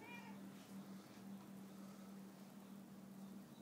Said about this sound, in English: Lots of meowing.